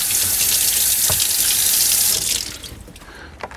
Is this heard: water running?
yes